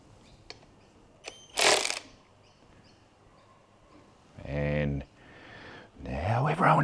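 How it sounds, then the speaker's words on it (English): A hand ratchet loosens bolts from an engine rocker shaft on an HQ sedan, giving a few short clicking bursts spread apart, with some brief other mechanical noises between them and no clear talk. "So we just carefully take our bolts out of the rocker"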